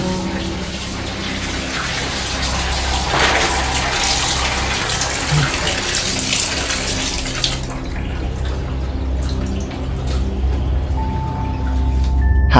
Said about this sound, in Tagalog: narinig niyang biglang bumukas ang gripo sa banyo